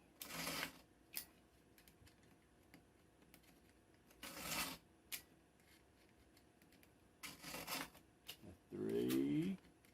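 A blade clamped into a knife sharpener and pushed forward, with three distinct scraping strokes spaced a few seconds apart and a brief voice at the end.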